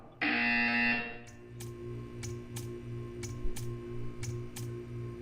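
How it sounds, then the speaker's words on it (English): A loud electronic buzzer in Portal 2 blares for about a second, then gives way to a steady ticking over a low hum. "When you hear the buzzer, stare at the art."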